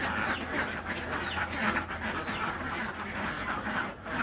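Ducks kept for egg laying call steadily in a pen, a dense overlapping chorus of quacks and squawks with no pauses, fairly loud against a constant farmyard background.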